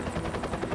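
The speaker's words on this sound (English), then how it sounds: "Helicopter's still one of my favourite sounds." Helicopter flying overhead in a wilderness rescue scene, its rotor thudding in a fast, steady chop that stays loud and close for the whole moment, with no voices.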